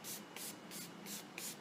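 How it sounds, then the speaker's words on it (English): A spray bottle mists liquid onto skin before sugaring hair removal, five short, evenly spaced hissing bursts, quiet and close. "Then spray the skin."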